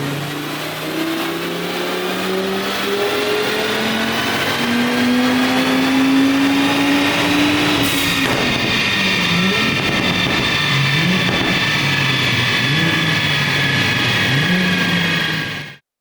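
Audi RS3 8Y with a 4-inch turbo-back exhaust revving hard on a dyno, a loud continuous engine note climbing steadily in pitch, then dropping and surging through repeated throttle blips, with no talking.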